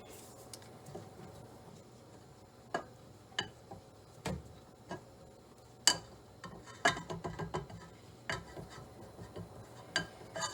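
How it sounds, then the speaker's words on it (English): Dry ingredients such as bread flour being put into a mixing bowl with a spatula, heard as sparse, close, quiet taps and clinks of utensil on bowl, separated by near-silence. "first I'm going to start off by putting all of my dry ingredients into my mixing bowl"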